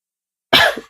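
A young child with a cough gives one short, close cough partway through, heard alone after a moment of silence.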